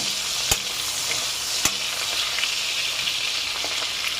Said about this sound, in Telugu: ఇవి వేగనండి కొంచెం ఎరుపు రావాలి